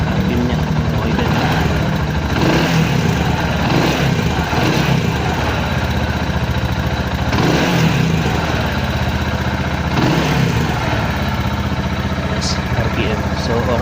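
A Sigma 250 motorcycle engine runs close by during an RPM gauge test, with a steady idle and several rising revs, while a person talks over it.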